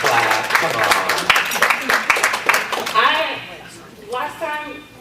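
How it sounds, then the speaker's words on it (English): Scattered hand claps from teachers at a school board meeting in a hall, sharp and uneven, mixed with overlapping talk and voices that rise over the clapping toward the end. "Teachers, you can clap. Come on."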